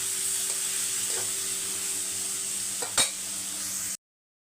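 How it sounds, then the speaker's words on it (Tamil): Chopped onions sauté in a pan with a steady, loud sizzle throughout, broken by a brief stir or clink near the end before the sound cuts off. "இப்போ இது வதங்கட்டும்"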